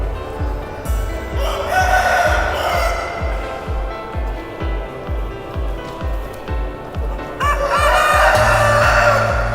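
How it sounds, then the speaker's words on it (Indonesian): Ekor lidi chicken at a chicken contest in Pekalongan, Indonesia, with crowing and clucking from a rooster over rhythmic thumping and a busy crowd background. "Ini ayam bagus coy. Namanya wiring kuning, kuningnya kuning cerah ini"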